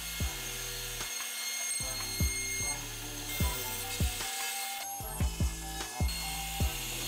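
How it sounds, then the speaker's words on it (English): A CNC router makes a roughing pass in wood with a 1/4 inch end mill, a steady mechanical hum with regular stepper clicks and ticks as the gantry moves back and forth; no speech. "First up, a roughing pass with a 1/4 inch end mill."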